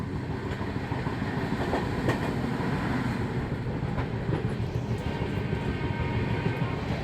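The Howrah Rajdhani Express runs at speed past Ghaziabad, heard from on board as a steady loud rumble of wheels on rails with repeated clickety-clack beats over joints and occasional sharper rattles, without talk.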